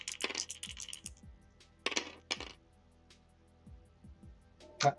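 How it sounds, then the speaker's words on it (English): Red dice for a tabletop wargame clatter onto a hard surface in a few short bursts, each rattle of bright clicks ending in quick settling bounces, close and quiet. "We'll choose a lucky red dice for the glorious red of the communists."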